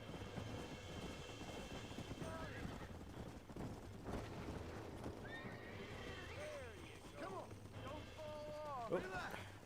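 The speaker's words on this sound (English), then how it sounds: "Okay, so I gotta capture a wild horse." Horse hooves clip-clop in Red Dead Redemption while a wild horse is being captured, a steady trotting rhythm mixed with loud neighs and whinnies, game music and a speaking voice over the top.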